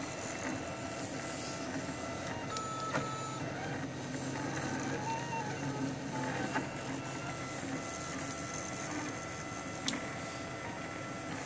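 A RepRap Prusa 3D printer works on a figurine, giving a continuous whirring, buzzing motor drone with shifting stepper tones and occasional faint ticks, steady and close throughout with no clear talk.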